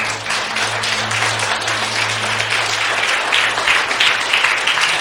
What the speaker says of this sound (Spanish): Pues denle un aplauso al Señor, ¿no?